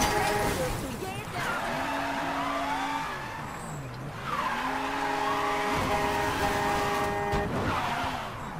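A car in Mafia III drives hard and skids, its engine revving up and down with rising and falling pitch over long, whining tire squeals. The sound is close and continuous, swelling and easing through repeated slides.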